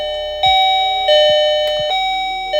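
A loud YABIFE smart mechanical doorbell chime at its highest volume rings repeatedly, each bright ding-dong tone starting sharply and ringing on before the next strike, close and clear.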